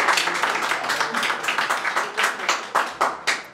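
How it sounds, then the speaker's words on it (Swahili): A small group claps for a birthday at a party, a run of quick sharp claps that grows more spaced and emphatic toward the end, with some voices mixed in. "Tumpigie makofi."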